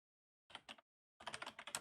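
Two quick keystrokes, a pause, then a rapid burst of typing on a computer keyboard, close and fairly quiet.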